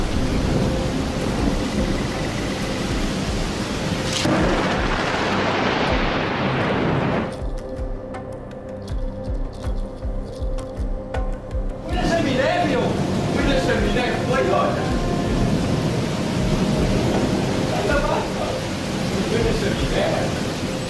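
Thunder from a lightning strike at sea rolls and crashes loudly amid heavy rain, easing into a quieter stretch of patter before another strong rumble and downpour return.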